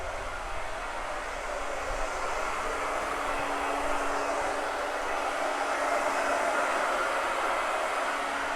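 A hair dryer blows steadily on wet paint on a Christmas saw decoration, giving a constant, fairly loud whooshing whine that runs the whole time without a break.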